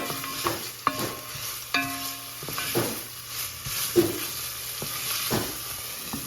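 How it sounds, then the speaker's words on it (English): Onions being sautéed in a pan, with steady sizzling and frying hiss, repeated stirring scrapes and occasional clinks of a utensil against cookware. "let me go saute the onions"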